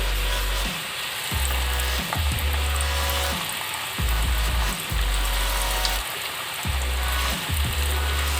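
Fish balls fry in hot oil with a steady bubbling sizzle, close by, broken by repeated low thumps and clanks of handling over the pan.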